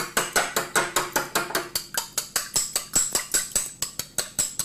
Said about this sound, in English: You whisk it very well.